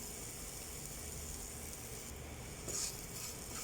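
Grated coconut fries in a pan with curry leaves for Kerala pothichoru, giving a soft, even sizzling hiss that swells briefly near the end.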